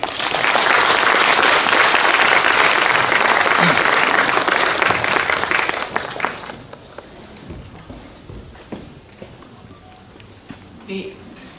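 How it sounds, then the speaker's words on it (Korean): An indoor audience at a youth village case-study presentation in Korea claps loudly and steadily for several seconds, then the applause thins out to scattered claps. "다시 한번 박수 부탁드리겠습니다"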